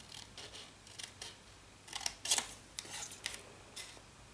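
Scissors snip out a small V-shaped paper banner for a handmade Valentine's card, a string of quick, crisp cuts that starts sparse, bunches into a brisk burst midway and trails off, close and quiet.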